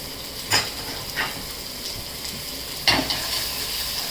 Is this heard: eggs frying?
yes